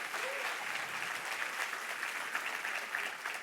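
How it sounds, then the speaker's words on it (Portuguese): Steady applause from a congregation fills a church service, a continuous dense patter of many hands held at an even level throughout. "Se é para aplaudir, aplauda o nome do Senhor Jesus."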